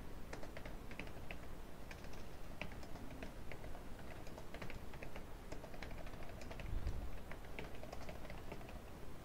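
Keys clatter on a computer keyboard while text is entered in PowerPoint, a steady stream of quick, light clicks with occasional heavier keystrokes over faint background hiss, near and moderately quiet.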